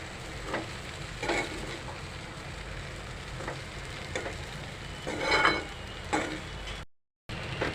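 Sabudana khichdi stirred in a kadai, giving soft, intermittent scraping and gentle sizzling bursts at an even pace over quiet background hiss, with a brief dropout near the end.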